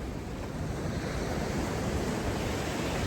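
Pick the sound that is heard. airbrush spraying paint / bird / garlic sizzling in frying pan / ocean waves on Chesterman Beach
ocean waves on Chesterman Beach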